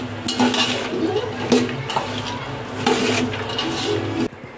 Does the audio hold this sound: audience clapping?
no